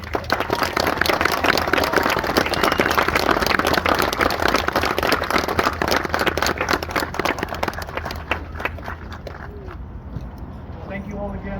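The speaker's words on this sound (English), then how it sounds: "Everyone, please join me in one more round of applause for Ryan Saavedra and Brighter Days." Audience applause at an outdoor public mural reveal in Albuquerque, a dense, steady wash of clapping filling most of the clip before thinning out near the end, with voices mixed in.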